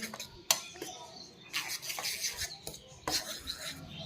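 A brush spreads a little ghee across a light pan in a home kitchen, making soft, intermittent scraping and rubbing strokes with a few sharper taps, close and fairly quiet.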